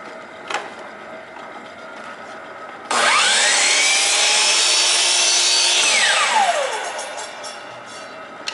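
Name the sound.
crosscut compound miter radial arm chop saw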